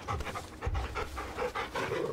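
A dog in the video game Final Fantasy XVI pants steadily and rhythmically, close and fairly loud, with quick repeated breaths and no talk over it.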